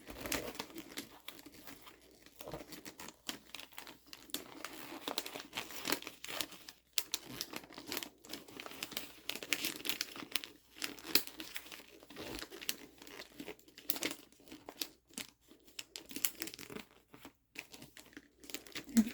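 Wrapping paper being folded around a gift, soft crinkles and crisp rustles that come in irregular bursts, close and quiet with no voice.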